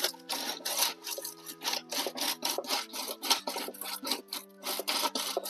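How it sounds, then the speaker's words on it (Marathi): A groundnut shelling machine cracks peanut pods with a steady, rhythmic rasping and grinding, its pulses repeating about twice a second over a low mechanical hum, close and fairly loud, with no talking. "मेट्रो युकॉनचं जे मशीन आहे ते रेडी आहे शेंगा फोडण्यासाठी"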